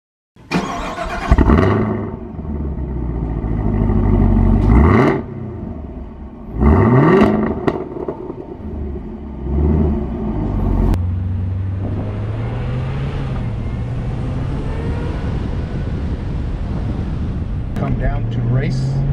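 Chevrolet Camaro ZL1 engine revving in a few sharp bursts, then a steadier drone as the car pulls away and drives, loud and close, with people talking over it.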